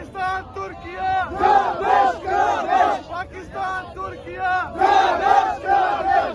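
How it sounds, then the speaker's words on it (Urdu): A crowd of families and young people gathered for New Year in Istanbul chants Pakistan Zindabad slogans in unison, loud rhythmic shouted phrases repeating in waves with short pauses between them. "جنہوں نے پاکستان زندہ باد اور پاک ترک دوستی زندہ باد کے نعرے لگا دیے"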